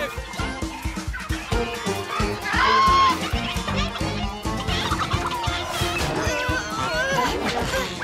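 Cartoon chickens squawk and cluck during a frantic chase, their calls overlapping busy music and effects in a loud, dense scene with no clear pauses.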